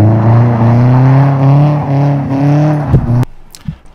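A car running an amateur welded exhaust revs up close with a loud, throaty drone that wavers slightly, then cuts off abruptly near the end, leaving a few faint knocks.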